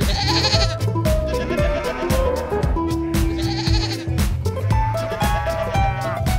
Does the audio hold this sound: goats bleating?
yes